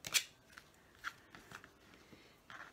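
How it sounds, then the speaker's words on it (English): A few quiet, crisp snips of scissors cutting the corners of fabric on a box base, spaced irregularly, close by and otherwise fairly quiet. "Now you can just do it like this or with your scissors."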